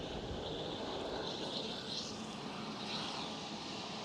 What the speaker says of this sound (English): Yes, a MAX 8 flying for TUI Netherlands.